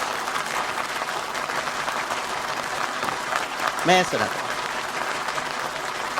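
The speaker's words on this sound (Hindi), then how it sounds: "एक बार अपनी उपस्थिति के लिए जोरदार जोरदार ताली बजा दो।" An audience at a poetry gathering, a kavi sammelan in Indore, gives sustained, lively applause. A voice speaks briefly partway through the clapping.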